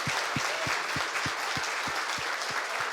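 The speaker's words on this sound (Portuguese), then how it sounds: "Palmas para Jesus bem forte." A church congregation claps for Jesus, a full, continuous roar of applause with a steady low beat, likely rhythmic clapping or foot stomping, pulsing about three times a second underneath.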